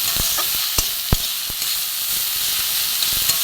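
Battered flower fritters frying in hot oil, a steady close sizzle and hiss with a few light clicks and taps from stirring or turning, no voices.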